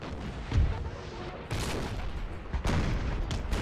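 Artillery canister fire in Napoleon Total War at the Second Battle of Burgos: a loud, continuous roar of cannon shots and musketry, with sharper booms that break in at intervals.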